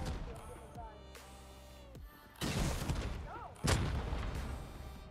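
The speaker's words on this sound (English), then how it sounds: "Someone shooting us, suppressed." Suppressed gunfire in the console edition of the survival game Rust, heard as two loud, muffled bursts over a busy game background, with tonal music-like sounds and a voice present.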